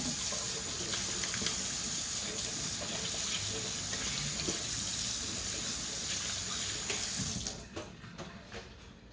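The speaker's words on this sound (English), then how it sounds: "let me wash my hands real quick" A kitchen tap runs steadily into a sink during hand washing, a soft continuous splash that stops near the end, leaving a few faint drips and clunks.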